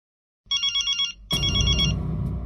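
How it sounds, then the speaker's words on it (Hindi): A telephone rings indoors with an electronic ringtone in short repeated trills, then a louder, fuller burst of the ring continues steadily, close and clear with no talk over it. "इस वक्त किसका फोन आ गया?"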